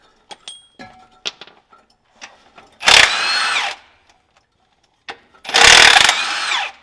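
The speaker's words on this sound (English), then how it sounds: "So now we should be able to pull these 4 bolts and just remove the brake housing" A power tool loosens the brake housing bolts on a car being prepared for a race, with two loud bursts of whirring drilling separated by scattered metallic clinks and tool handling.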